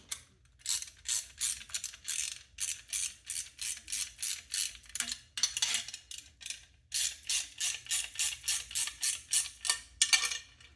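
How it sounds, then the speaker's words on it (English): A 10mm wrench snugs down a U-bolt on a WeatherXM weather station's aluminum mount, giving a steady run of close ratcheting clicks in repeated bursts with brief pauses between strokes. "Just get my 10mm wrench."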